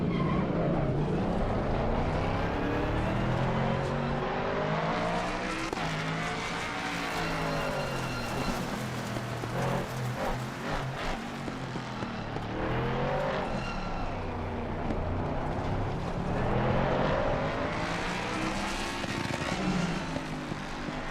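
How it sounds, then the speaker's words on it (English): A Ford Mustang GT3 race car in Assetto Corsa Competizione screams steadily at high revs near its rev limiter, its loud, continuous engine note rising and falling throughout with no pause. "Sounds great on the rev limiter though."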